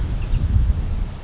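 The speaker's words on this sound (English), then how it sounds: "this is really windy" Low, blustery rumble of wind buffeting the microphone in uneven gusts, close and fairly loud, with no voices.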